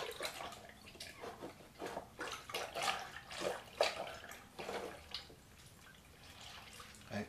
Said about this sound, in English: So I soak my piece in the Chitosan solution.